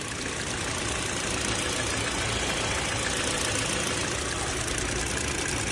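A 2024 Kia Sorento's 2.5-litre turbo petrol engine idles close by with a constant, even hum and hiss that holds steady throughout, with no speech.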